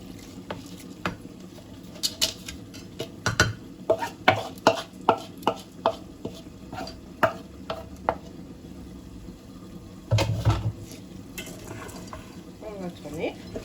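Rice and beans being stirred in a cooking pot, with a steady run of scraping, clinking spoon strokes against the pot over a low background hum, with no talking.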